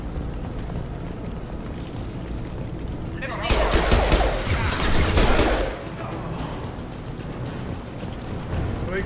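Gunfire rattles through a street battle in Mass Effect 2 as Blue Suns mercenaries and Vorcha shoot, a loud sustained burst rising midway and fading out, with scattered quieter shots around it.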